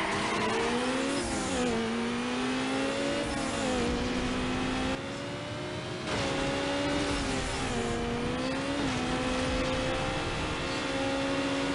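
Car engine revving steadily with shifting pitch in Need for Speed Underground, loud and continuous with tire noise as the car slides and skids, no talk.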